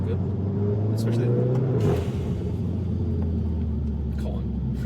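A 2018 Volkswagen Golf R engine rumbles steadily from inside the moving car, with a rising rev that drops off near two seconds and then a low, even drone. Someone talks over it.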